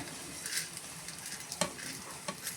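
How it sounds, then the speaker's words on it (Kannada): Cumin and coriander seeds frying in a pan make a faint, steady sizzle with a few soft scrapes and taps from stirring. "ಇದನ್ನೆಲ್ಲ ಫ್ರೈ ಮಾಡ್ಕೊಳ್ಳೋಣ"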